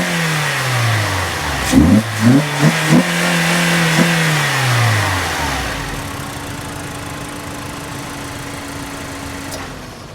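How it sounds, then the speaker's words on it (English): A Mazda MX-5 Miata (ND) engine with a CorkSport cold air intake idles, then revs in several quick sharp bursts before settling and slowly winding down, loud and close with a throaty intake note. "now I'm going to go ahead and mic up the car again"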